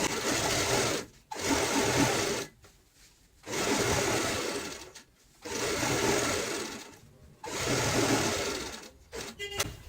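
A sewing machine runs in three long bursts with short pauses between them, stitching seams around all four sides of a pillow cover that holds a lining and foam filling. No one speaks.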